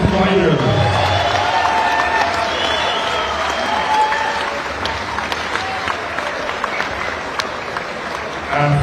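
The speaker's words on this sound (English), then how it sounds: "may we please have a round of applause to these two fighters." Crowd applauds two boxers after a twelve-round pro bout, a sustained wash of clapping with scattered cheers and whoops, fairly loud and steady, with some background voices.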